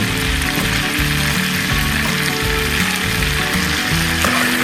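Beef steak frying in a pan and basted with butter gives a loud, steady sizzle with continuous spattering crackle, heard close and alone without talk.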